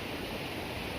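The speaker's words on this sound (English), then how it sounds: "this is the first fall, the first waterfall" A waterfall on a trail of many falls rushes in a steady, dense broadband roar with no breaks or voices.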